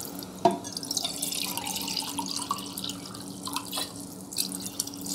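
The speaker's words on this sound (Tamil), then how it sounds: "தண்ணி ஊற்றியாச்சு." Water trickles and splashes into a pot of rice for paneer pulao close by, a gentle pour with scattered drips.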